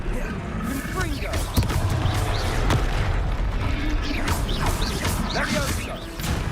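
In the game Hogwarts Legacy, a Confringo fire spell blasts during a fight, with booms, crashes and mechanical clatter layered over continuous combat noise, while a voice talks over it.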